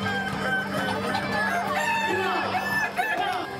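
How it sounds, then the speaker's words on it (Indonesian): Dozens of stocky Kukuak Balenggek roosters, an endemic Solok breed, crow back and forth at a crowing contest, long tiered calls overlapping with clucks over a steady low hum. "Puluhan ayam dengan postur gempal dan jengger menawan ini berkokok saling sahutan"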